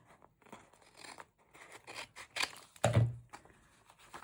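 Scissors cut through paper for a trash journal at a craft table, a few soft snips and crinkles followed by one louder, sharper crunch near the end, close and alone.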